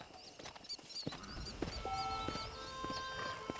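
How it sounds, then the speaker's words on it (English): Horse from the Red Dead Redemption video game, with soft hoof clip-clops and a brief tonal whinny-like call amid a busy game soundscape of faint birds and ambient noise, moderately quiet throughout. "Was that my horse?"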